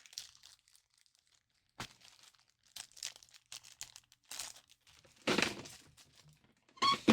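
Little plastic screw baggies from an Xbox One assembly being handled, giving close crinkling and rustling bursts separated by quiet gaps, growing louder toward the end.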